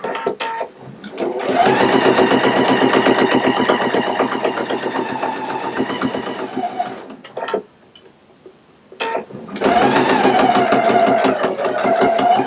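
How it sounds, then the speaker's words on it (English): A sewing machine stitches a holiday table runner with a loud, steady, rapid needle rhythm. It stops briefly, then resumes at the same fast pace. "when you get to the corner, go ahead and stitch off the corner"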